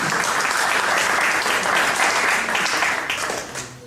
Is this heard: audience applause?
yes